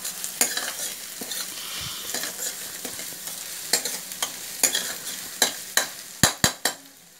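Onions sautéing in a pan for white kurma, with a soft, steady sizzle broken by repeated sharp scrapes and taps of a spoon stirring, growing louder and more frequent toward the end.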